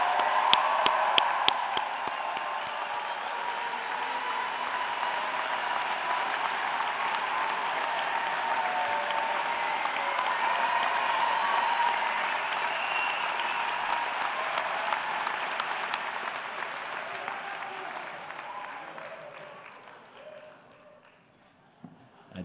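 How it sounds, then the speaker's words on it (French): Sustained applause from an audience at a 2014 medical graduation ceremony honouring new doctors, a dense steady roar of clapping that holds for most of the stretch before thinning out and fading near the end. "Vous pouvez maintenant les applaudir tous très chaleureusement."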